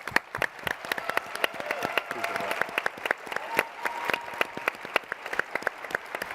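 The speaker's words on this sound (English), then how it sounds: "I just want to give you a big round of applause for that." Audience applause at the MBK Rising conference: dense, steady clapping from a crowd that runs throughout, with cheering voices and calls rising above it.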